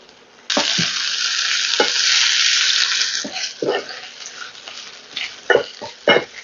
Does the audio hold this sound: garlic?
yes